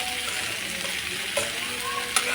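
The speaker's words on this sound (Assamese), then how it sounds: "দি লোৱাৰ পিছত আকৌ ভাজিখিনি মই ভালদৰে মিক্স কৰি দিছোঁ।" Bitter gourd stir-fry being stirred in a pan, with a steady frying sizzle and scraping of a utensil, plus a couple of brief louder knocks near the end.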